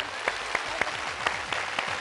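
A studio audience at a Telugu game show applauds a winning contestant, with sharp, evenly spaced claps ringing out over a continuous spatter of applause.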